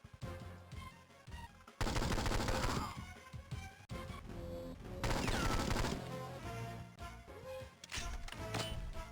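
Turret machine-gun fire in the 2003 Game Boy Advance game 007: Nightfire: two long loud bursts of rapid chiptune-style shots, set among game music and effects.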